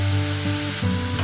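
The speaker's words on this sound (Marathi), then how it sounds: "पहा, मिरचीचा ठेचा छान परतलेला आहे" Crushed green chili and ginger fry in a pan with a loud, close, continuous sizzle, and nothing else is heard over it.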